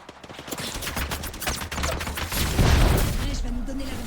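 Gunfire in the shooter game Apex Legends, with bursts of shots and booming impacts during a firefight. A loud, dense mix sits under game voice and chatter.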